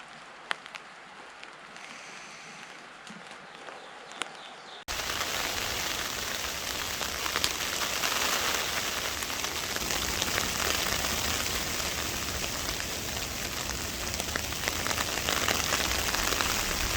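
Rain comes down on a motorcycle campsite: a few seconds of sparse drips, then a sudden, steady downpour patters loudly and continuously on surfaces until the end, with no voices.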